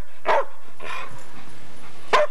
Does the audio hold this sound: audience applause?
no